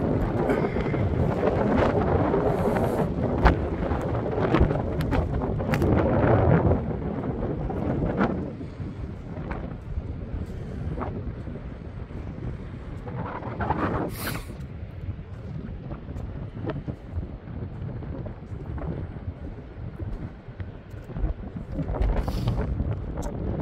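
Strong wind buffets the microphone on open sand-flats at Rye, East Sussex, a steady loud roar with gusts throughout, and faint voices barely show early on.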